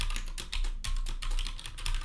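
Typing on a computer keyboard while entering related records in FileMaker, a quick run of close, steady key clicks heard alone.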